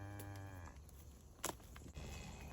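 A cow lows on a farm, a deep drawn-out moo heard at moderate distance over a breezy background, followed by a brief thump and faint rustling.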